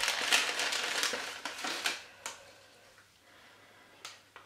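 Plastic bag of stickers and stamps being opened and handled at a craft desk, giving close, crisp crinkling and rustling bursts in the first two seconds, then quieter scattered crackles and a final sharp crinkle.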